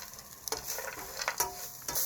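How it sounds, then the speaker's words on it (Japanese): Nuts stir-fried in a hot frying pan over medium heat, a soft hiss with repeated rattling stirring strokes every half second or so, close by. "ここにナッツを入れて、これから1分30秒炒めます。"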